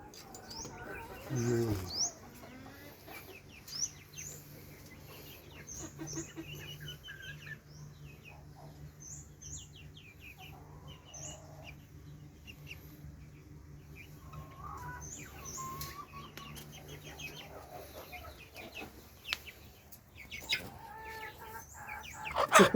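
Chickens cluck in scattered, soft bursts over a quiet yard background, with occasional cooing notes mixed in and no one talking.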